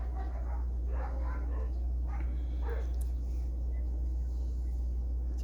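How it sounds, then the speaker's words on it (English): Dogs fighting indoors, a scuffle of several short yips, growls and whimpers in the first three seconds over a constant low hum, fading afterward. "Sorry, the dogs are fighting."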